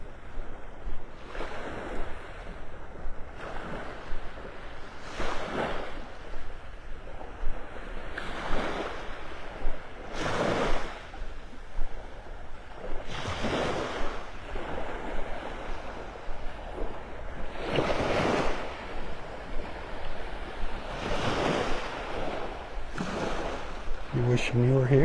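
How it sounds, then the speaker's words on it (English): Small waves lap rhythmically on the sandy shore of a Gulf beach at Delnor-Wiggins in North Naples, each soft wash swelling and receding every few seconds, close by with light wind in the background. "Sounds of the little waves lapping up on the shore."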